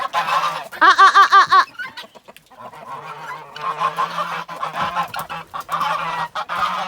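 Guinea fowl call with a burst of loud, rhythmic, harsh honking cries, followed by scattered squawks, rustling and flapping nearby in a free-range flock.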